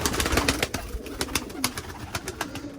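Pigeons coo and flutter close by, with soft repeated calls and scattered rustling and movement throughout.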